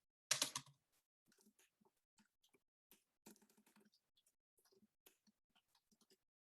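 Computer keyboard typing, a quick burst of soft key clicks followed by scattered irregular taps and short runs, quiet and close with no talk.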